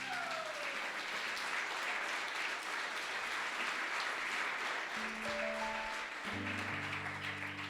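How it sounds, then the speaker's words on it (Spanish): Applause from a church congregation fills the room as a continuous, even roar of many hands clapping, heard from amid the crowd, while a sustained musical tone rises beneath it in the second half. "Yo le daría un aplauso al Señor por eso."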